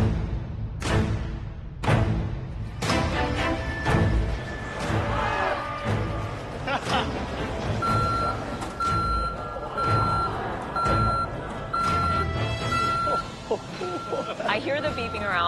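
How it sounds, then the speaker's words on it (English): Repeated truck reversing beeps pulse steadily in the background while a voice talks over a busy crowd and engine rumble at a cooking competition. "I hear the beeping around me."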